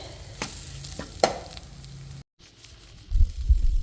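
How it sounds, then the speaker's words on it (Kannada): Egg bhurji with turmeric sizzles and frying in a pan while a spatula scrapes and stirs in a few soft strokes, broken by a brief silent gap and then a louder closing burst of stirring. "ಈ ರೀತಿ ಚೆನ್ನಾಗಿ ಬಾಡಿಸ್ತಾ ಇರಿ, ಫ್ರೈ ಆಗ್ತಾ ಇರುತ್ತೆ"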